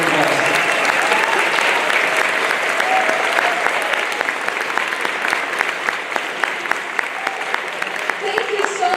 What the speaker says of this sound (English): give a big warm applause to Natina, our contest director for the last 2 years